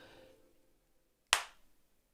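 A single sharp hand slap against a forehead, loud and close like one clap, after faint background murmur, with no talk over it.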